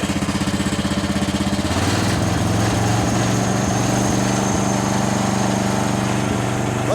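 A 1977 John Deere 300 riding mower engine idles steadily, then revs up around two seconds in to a loud, sustained, smooth throttle with slight popping, close to the listener and with no talk over it.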